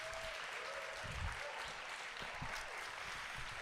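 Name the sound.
audience applause for the poets at a poetry slam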